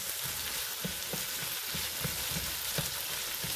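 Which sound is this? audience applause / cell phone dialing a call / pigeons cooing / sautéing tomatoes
sautéing tomatoes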